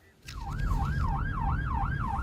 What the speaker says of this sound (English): A Belfast ambulance rushes to a road traffic accident